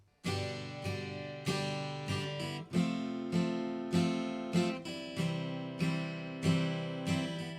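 An acoustic guitar strums chords from the chorus of a song in a steady down-up rhythm, ringing clearly and close, with chord changes every second or so.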